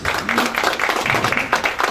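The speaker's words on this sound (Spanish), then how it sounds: "Un aplauso, por favor." An audience at an agricultural engineering presentation applauds, dense, steady clapping filling the room for a couple of seconds, fairly loud and close.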